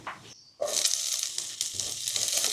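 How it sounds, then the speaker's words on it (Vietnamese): Onion dropped into a pan of golden fried garlic bursts into a loud, sudden sizzle that holds as a steady, close hiss with light stirring underneath, and no voices. "Tỏi vàng thơm rồi thì mình sẽ cho hành tây vào"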